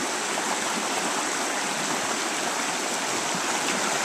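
A Newfoundland salmon river rushes past at close range, a loud, unbroken roar of flowing water that holds steady throughout with no voices.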